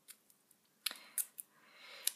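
Masking tape torn by hand produces a few short, crisp ripping and crackling bursts against near silence, close and fairly quiet.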